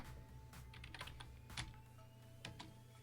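Close, fairly quiet clatter of keys being typed on a computer keyboard, a quick irregular run of keystrokes with short pauses, no talking.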